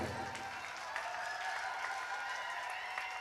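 Audience applause at a mushaira poetry gathering in Kukra town, Gola Khiri, a steady wash of many hands clapping at moderate distance, continuous and fairly even throughout.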